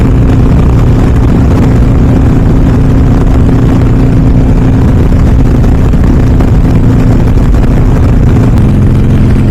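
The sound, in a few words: Harley-Davidson Sportster Iron 883 riding at 65 mph in fifth gear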